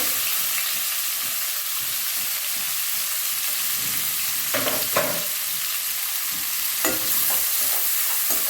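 Onions and green chillies fry in hot oil, giving a loud, steady sizzle with occasional stirring scrapes near the pan.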